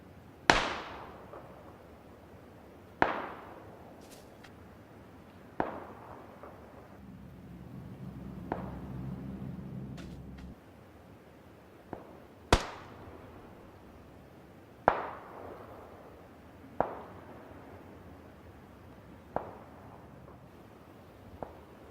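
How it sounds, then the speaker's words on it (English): Distant gunshots in the video game PUBG ring out as isolated sharp reports, spaced a few seconds apart, each trailing off in an echoing decay, with a low rumbling hum in between. "The close gunshot sounds are louder and more clear than the distance ones."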